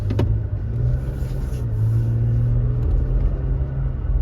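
A 2023 Toyota Tacoma SR5 4x4 pickup on a test drive, its engine giving a steady low droning rumble inside the cab that holds level throughout, with no talk over it.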